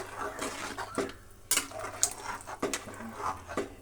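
A spoon stirs lemon juice into green chicken biryani made with fenugreek leaves, clinking and scraping softly against a metal pot in a quiet, irregular rhythm.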